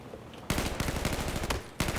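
Rapid, loud gunfire in the Battlefield 4 video game, a dense rattling burst lasting over a second followed by a renewed blast, close and harsh with no talk.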